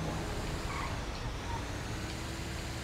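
A vehicle driving in the video game GTA V, a steady engine and road rumble at moderate volume that holds level throughout, with a voice murmuring faintly under it.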